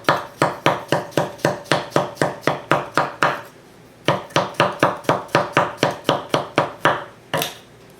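A knife chops garlic on a cutting board in quick, steady bursts of sharp knocks, a run of about fourteen strikes, a brief pause, then another rapid series, close and loud with no talking.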